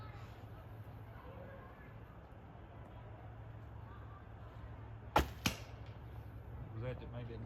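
An arrow shot from a traditional bow hits with two sharp cracks in quick succession, loud against a quiet outdoor hum, followed by a brief rattling clatter.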